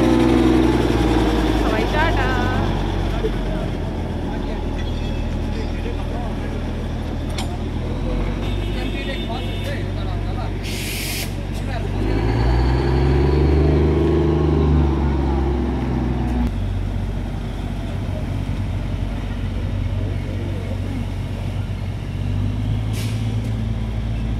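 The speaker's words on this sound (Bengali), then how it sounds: "আমাদের স্টিম ইঞ্জিনের টয় ট্রেনের আগে ডিজেল ইঞ্জিনের টয় ট্রেনটা ছেড়ে দিল" A diesel-engined Darjeeling toy train pulls out of the station, its low engine rumble swelling midway over a steady idling drone, with a short hiss and people talking nearby.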